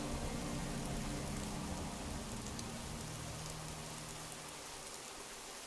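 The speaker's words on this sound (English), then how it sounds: "apparently it's suddenly raining outside" Steady rain falls outside an apartment above a small cafe in the game Fallout: London, a dense, continuous hiss of drops on surfaces, even and unbroken throughout with no voices.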